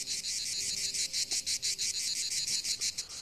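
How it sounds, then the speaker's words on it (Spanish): A male cicada sings by rapidly vibrating its membranes, producing a loud, close, pulsing buzz in rapid regular bursts that continues throughout with no talk. "Haciendo vibrar sus membranas rápidamente, emite un sonido conocido como canto de la cigarra."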